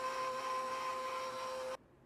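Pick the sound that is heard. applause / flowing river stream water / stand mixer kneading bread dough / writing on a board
stand mixer kneading bread dough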